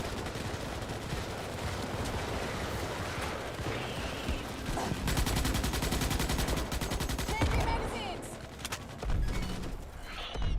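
Dense bursts of rapid automatic gunfire and overlapping shots fill the Starship Troopers: Extermination game battle, loud and nearly continuous with brief lulls.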